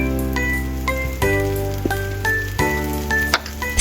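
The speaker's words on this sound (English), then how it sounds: "Stir-fry pre-roasted eggplant over high heat for just 1 to 2 minutes." Pre-roasted eggplant being stir-fried over high heat in a spicy vegan dish: a steady, close sizzle with periodic sharp clanks and scrapes of the utensil against the pan.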